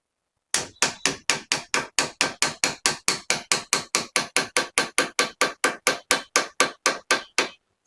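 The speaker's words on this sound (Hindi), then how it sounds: "अब उसके बाद ऐसे थोड़ा सा ठोक देंगे" Repeated hammer blows tapping a charged magnet into place inside an e-rickshaw motor, about thirty sharp, evenly spaced metallic strikes in a steady rhythm, close and loud with no talking.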